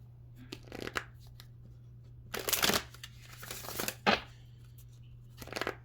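Oracle cards shuffled and pulled from a deck, with several bursts of riffling and sliding card noise, one long flurry in the middle and sharper flicks between, set against a steady low hum and no talking.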